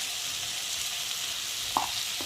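Spice paste of ginger, cumin, garlic and turmeric frying in hot oil with vegetables, a steady close sizzle throughout with a brief stirring clatter near the end.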